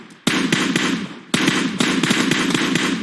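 Gunshots ring out in a video game match: a loud, rapid string of sharp cracks in two bursts, roughly eight to ten shots in all, close and clear with a brief pause between the bursts.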